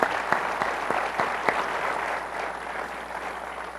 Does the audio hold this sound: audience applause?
yes